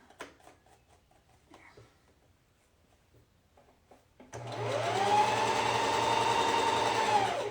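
A sewing machine stitching a bodice starts after quiet rustling and small clicks, then runs steadily and loudly with a constant motor whine and rapid needle rhythm for several seconds.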